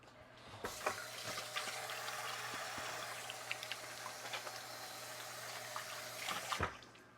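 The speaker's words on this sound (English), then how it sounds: "I'm going to wash my hands again because I've touched my forehead." Tap water runs steadily into a kitchen sink during hand washing, a continuous close hiss and splash with small clinks and splatters, sharper bursts near the start and end.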